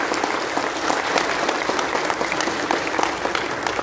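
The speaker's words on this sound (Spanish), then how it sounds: "Pues un aplauso a las enfermeras, a los doctores" Crowd applause at a road inauguration ceremony in Pénjamo, a continuous wash of many hands clapping with scattered sharper claps, steady and fairly close.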